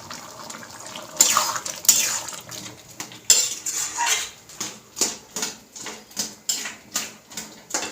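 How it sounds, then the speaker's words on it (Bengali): A spoon stirs and mashes potatoes in a pot of ghugni, making regular metallic scrapes and knocks against the pot that repeat in a steady rhythm after a few louder clanks. "আলুগুলো একটু বড় বড় আছে, তাই একটু ঘেটে দিচ্ছি।"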